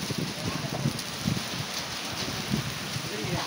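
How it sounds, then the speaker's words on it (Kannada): Hailstones pelt down during an evening storm at a wedding venue, a dense steady patter of hard strikes with occasional louder bursts, while voices talk throughout. "ಆಲಿಕಲ್ಲು, ಆಲಿಕಲ್ಲು"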